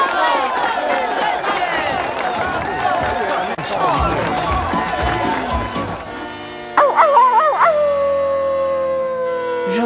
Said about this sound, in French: La chienne incroyable, Miss Geneviève!